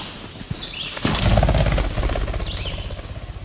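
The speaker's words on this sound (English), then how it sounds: "That was a ruffed grouse." Ruffed grouse flushing from hiding beside a forest trail, a sudden burst of loud, rapid wingbeats close by that fades into a fluttering whir, with faint birdsong around.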